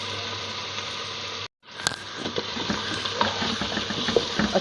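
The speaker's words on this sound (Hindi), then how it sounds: "मैं आंच हल्की कर देती हूँ और हम शलजम के साथ अपने गोश्त को अच्छी तरीके से भून" Mutton and turnips sauté in a pot over low heat, giving a steady, close sizzle with scattered stirring clatter after a brief silent gap at the start.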